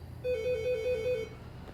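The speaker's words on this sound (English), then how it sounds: "Sorry about the phone, guys." A phone rings once during a math lesson, a single steady electronic tone lasting about a second over low room noise, fairly loud and with no talk.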